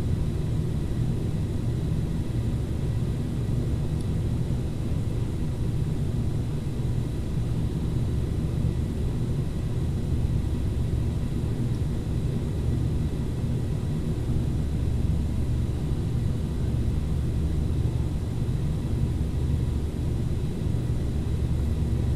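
A steady, even drone of Fokker 50 turboprop engines from a flight simulator cabin, a constant low rumble with hiss above it that holds unchanged throughout.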